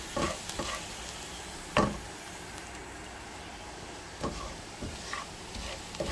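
Flour roasts in a pan for alfredo sauce, giving a soft, continuous sizzle with a few scattered scrapes and taps of a spoon stirring it, fairly quiet and steady throughout.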